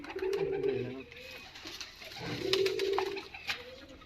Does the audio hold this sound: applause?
no